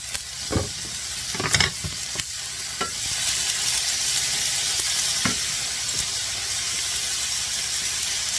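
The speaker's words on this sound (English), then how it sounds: "put some olive oil in my skillet here, and I'm gonna saute my vegetables first" Vegetables sauté in olive oil in a skillet, giving a steady close hiss and sizzle, with a few sharp clanks of a utensil stirring them early on.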